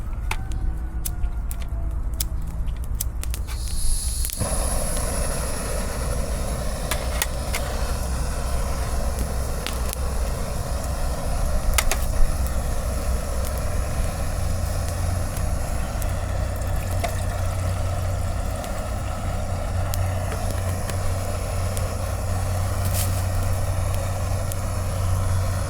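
Steady low engine drone of an airplane passing overhead at a bikepacking campsite, continuous and fairly loud beneath wind noise, with a brief burst of rustling at the start.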